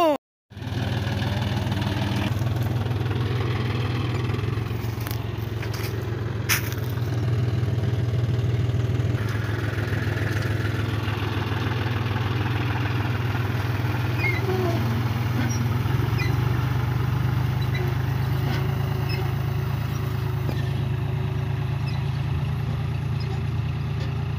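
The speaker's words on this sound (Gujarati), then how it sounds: "ટ્રેક્ટર છે ટ્રેક્ટર જાહેર વાવી રહ્યું છે" A tractor pulls an automatic seed drill sowing sorghum in a field, with a steady droning engine running continuously alongside faint clatter of the implement and occasional knocks, loud and close throughout.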